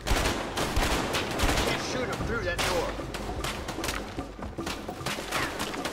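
Dense video-game gunfire in A Way Out, rapid overlapping bursts and shots running continuously and loudly, with players talking over the shooting.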